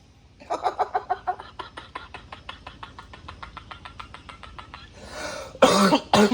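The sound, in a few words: coughing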